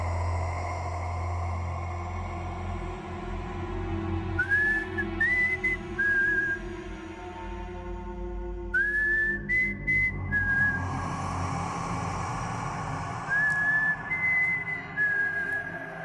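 A man whistles a short, melodic tune in three bursts of rising and held notes over a low background hum, indoors in an office cabin during a horror drama scene.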